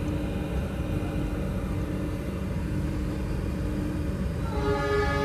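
A long, steady horn blares from the Purwojaya executive train as it runs fast on the Cilacap–Jakarta line, loud and continuous over the rumble of the rail cars, with a second horn tone joining near the end.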